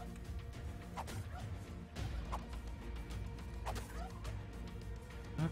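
A turkey in ARK: Survival Evolved gobbles several times, in distinct bursts roughly a second or more apart, over a low steady game background.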